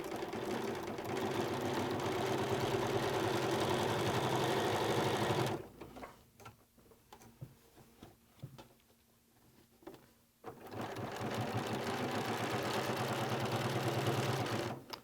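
Sewing machine stitching binding onto a quilt with monofilament thread, a steady rhythmic whir that stops midway for a quiet pause with small handling noises, then resumes at the same pace.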